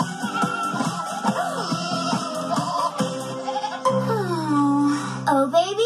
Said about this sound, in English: Oh, baby goats,